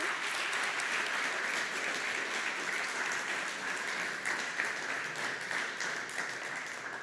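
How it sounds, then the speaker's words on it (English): An audience at an AI startup demo day applauds a team after its pitch, dense steady clapping filling the hall, somewhat distant and even throughout. "That's your applause."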